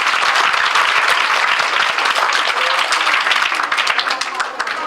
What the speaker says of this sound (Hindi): इन 3 बच्चों के लिए आप लोग जोरदार ताली बजाइए